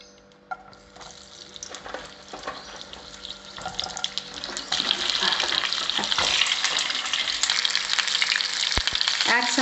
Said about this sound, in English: Let's first fry the parval.